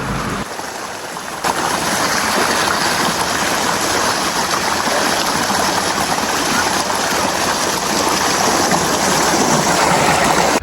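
Steady rushing of flowing stream water, loud and close, a continuous broadband wash that swells slightly after the first moment.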